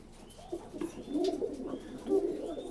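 Fancy Jacobin pigeons coo in soft, low, throaty bursts, several overlapping calls repeating close by against a quiet background.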